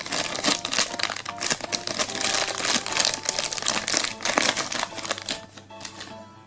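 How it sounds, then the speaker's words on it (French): Crinkly plastic bubble packaging of an L.O.L. Surprise Lil Outrageous Littles doll being pulled open by hand, a steady run of close, busy crackling and rustling bursts with no talking. "Il est maintenant temps d'ouvrir la bulle et de découvrir quelle poupée va venir s'ajouter à notre collection"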